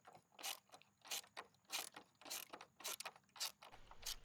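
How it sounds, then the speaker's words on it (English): A bolt with a washer is tightened into dry cedar wood on a backyard playset, making a quiet run of rhythmic ratcheting clicks in repeated bursts, close up with no voices. "I just tighten it up enough so that it starts to compress or pull in that washer"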